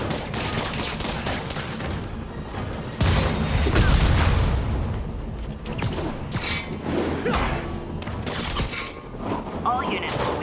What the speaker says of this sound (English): All units, we have reports of live gunfire, prisoners and vehicles.